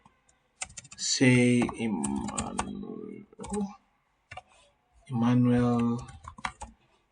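Keystrokes on a computer keyboard as a team member's name is typed, soft scattered clicks partly masked by a person talking over them.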